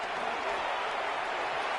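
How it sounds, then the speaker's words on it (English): Crowd applause in the Madden 26 football game, a steady even wash of clapping and cheering that fills the short moment at moderate loudness, no clear individual claps standing out. "Some applause for the defense there."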